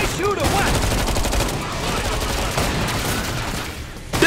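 Dense, continuous gunfire in a frantic zombie shooter video game, with rapid overlapping shots forming a loud, unbroken fusillade and a sharper burst at the very end.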